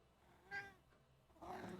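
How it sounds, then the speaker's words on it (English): A house cat meows twice, faint and close, a short cry followed by a longer, rougher caterwaul. "That's my cat."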